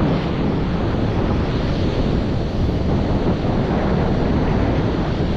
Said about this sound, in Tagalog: Grabe, ang lalaki ng alon.